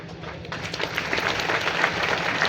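An audience at a motivational talk breaks into steady, dense applause, a continuous wash of clapping that holds at a fairly loud, even level throughout.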